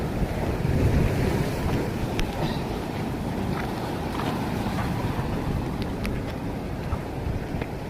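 Rough, swelling sea surf with waves washing steadily along the shore where people fish, a continuous broad roar mixed with wind buffeting the microphone, no voices.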